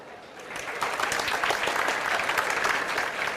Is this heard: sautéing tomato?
no